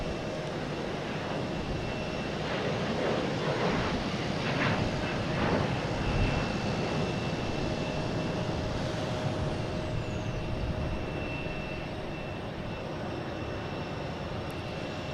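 Embraer E-175 jet at Boston Logan International Airport, a steady, moderately distant engine roar with a thin high whine, swelling gently around the middle and then easing off, with no talking.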